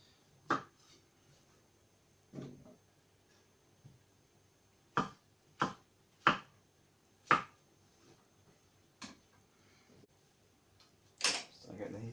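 A knife chopping mushrooms into thick slices on a board, giving a series of sharp, separate cuts at an uneven pace, close and fairly quiet, with near-silence between strokes.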